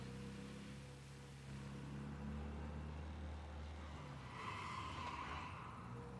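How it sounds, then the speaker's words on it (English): A car drives in the video game Mafia Definitive Edition, its engine a steady low rumble with rising road noise and a brighter squeal toward the end, continuous and fairly loud with no talk. "The squeaking sound is so irritating though in cars."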